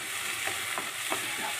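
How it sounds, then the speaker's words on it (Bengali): Green chili, ginger, garlic and onion paste frying in oil for dahi vendi, a steady close sizzle with a few soft stirring scrapes, no voices. "এটাকে ভালো করে একদম লাল লাল করে ভাজবো"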